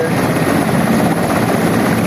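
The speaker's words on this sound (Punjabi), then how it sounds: "ਇੱਕ ਆਰਮੀ ਵਾਲਿਆਂ ਦਾ ਹੈਲੀਕਾਪਟਰ ਉਤਰਿਆ" An army helicopter lands at a grain market in Dera Baba Nanak during flood relief, its rotor and engine roar loud, close and steady throughout.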